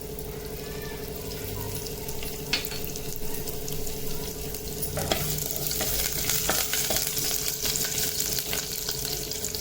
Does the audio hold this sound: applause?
no